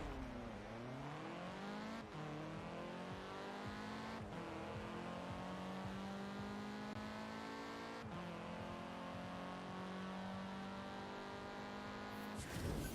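A car in Forza Horizon revs hard and accelerates down a drag strip, its engine climbing through several gear changes in a loud, continuous roar that ends with a brief squeal near the finish.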